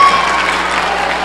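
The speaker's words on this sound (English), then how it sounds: "Give them a round of applause." Students in a middle school assembly applaud their classmates, a dense wash of clapping that is loud and steady from the start and continues without a break.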